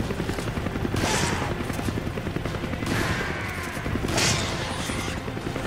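Helicopter gunfire in Resident Evil 5: a continuous rotor-like roar with repeated bursts of rapid shooting, loud and dense throughout, with gameplay noise layered over it.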